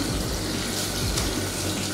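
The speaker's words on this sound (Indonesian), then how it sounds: "ini dengan air mengalir" Tap water running steadily into a sink while hands are washed, a close, continuous broadband splashing rush with no talking.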